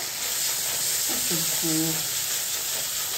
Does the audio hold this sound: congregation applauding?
no